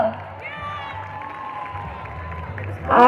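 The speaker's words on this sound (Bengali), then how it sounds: "আজকে পাটানগরের মানুষের জন্য একটা জোরে হাততালি হবে তো" A crowd at a local stage event in Batanagar claps and cheers in a continuous dense wash, swelling louder at the very end, with a voice over it.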